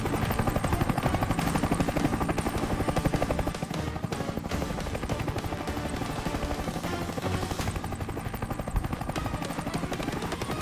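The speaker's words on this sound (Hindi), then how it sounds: "ये हेलीकॉप्टर यहीं आ रहा है क्या" A helicopter approaching, its rotor thumping steadily and loudly throughout, a dense continuous chopping roar with no voices.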